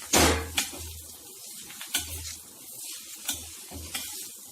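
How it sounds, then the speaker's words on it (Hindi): Vegetables being stir-fried and tossed in a hot pan with leftover chapati noodles, giving a steady sizzle broken by several sharp scrapes and clanks of the spatula against the pan, close and moderately loud. "तो अब हमने हमारी जो सब्जियां हैं इसको अच्छे से मिला देना है"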